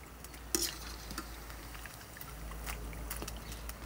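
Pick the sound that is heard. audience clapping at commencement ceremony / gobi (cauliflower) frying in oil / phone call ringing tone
gobi (cauliflower) frying in oil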